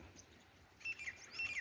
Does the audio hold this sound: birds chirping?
yes